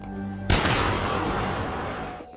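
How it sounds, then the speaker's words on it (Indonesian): A pistol gunshot in a film scene rings out as one loud, sharp blast at mid-clip, followed by a long broad reverberant tail of noise with no speech. "Tak berselang lama, pistol itu pun ditembakkan."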